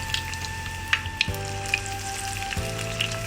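Sabudana tart cooks in ghee in a pan, giving a steady close sizzle with scattered small pops and crackles over a faint electrical hum, with no talking.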